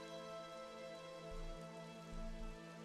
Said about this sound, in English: It's raining. It's pouring.